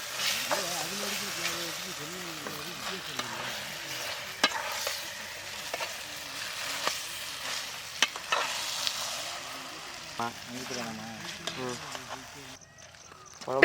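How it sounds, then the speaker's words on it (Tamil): Cleaned rabbit meat sizzles steadily in a hot pan and is stirred with sharp scraping clatters throughout, while a voice talks over the cooking. "அடுத்து சுத்தம் பண்ணி வச்சிருக்க முயல் கறியை போட்டுப்போங்க"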